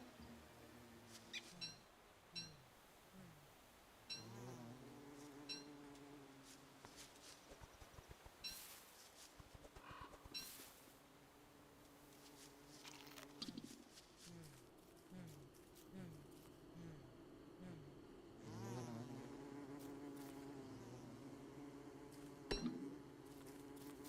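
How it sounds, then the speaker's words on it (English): Bees drone and buzz in the Don't Starve video game, repeated wavering hums rising and falling over a busy mix of game effects and clicks. "There's a lot of bees here."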